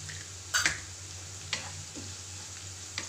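Onion with ginger, green chillies and curry leaves sautéing in a pan, a steady soft sizzle broken by a few sharp spatula scrapes and clicks close by.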